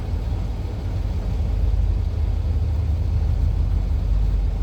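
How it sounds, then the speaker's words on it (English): Heavy trucks pulling out together at a stop near Billings, Montana, giving a steady low engine rumble with mid-range drone that holds at a constant loudness, with no voices. "Look at these boys about to get ready to pull out now, though."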